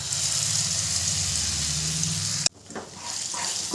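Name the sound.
ground lentil paste added to hot oil, frying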